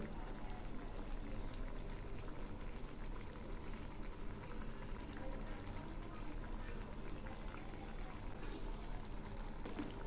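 Fish curry gravy bubbles at a steady boil, a faint, even, crackling simmer that runs without pause and with no voices.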